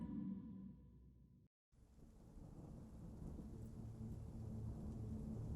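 Heavy rain falls steadily with low rolling thunder, interrupted by a brief moment of silence before the downpour resumes, continuous and enveloping.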